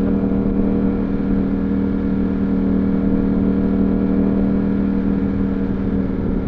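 A Streetfighter V4S motorcycle engine drones steadily while riding, a loud, constant low rumble mixed with wind roar and no clear revving.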